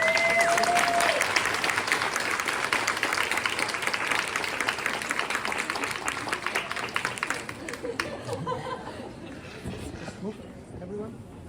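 An audience applauds loudly and continuously, the clapping slowly thinning and fading toward the end.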